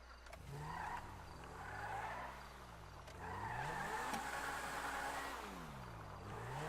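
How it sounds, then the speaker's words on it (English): A Pegassi Vacca sports car in Grand Theft Auto 5 revs and shifts through rising and falling engine sweeps, with tires squealing and skidding as it speeds along, loud and close. "This is the Pagasi Vodka. This is actually a really fast car."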